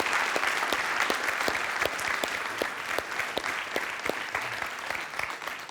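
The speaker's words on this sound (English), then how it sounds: "Do you want to have a round of applause for this gentleman as he comes on stage?" A theatre audience breaks into steady, warm applause as a man walks on stage, a dense crowd of clapping hands sustained throughout, fading slightly at the end.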